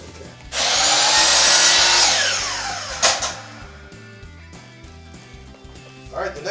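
A power tool cuts framing pieces for the edge of a plywood board topped with cork underlay, a loud close whine of about two seconds that winds down, followed by scraping and handling noises.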